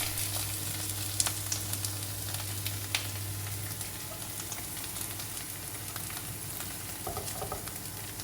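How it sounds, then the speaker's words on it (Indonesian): Shallots and garlic sauté in a pan for a broth, making a steady close sizzle with soft crackles and occasional stirring, over a low background hum and with no talking. "Sambil nunggu aku tumis bawang merah dan bawang putih untuk kuah kaldu."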